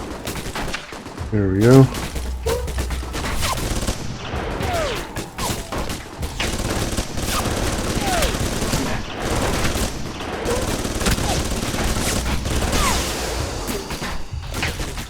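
Gunfire from the video game Alpha Protocol, with dense bursts of automatic shots and thumping impacts that run almost nonstop, while a voice talks over the firing.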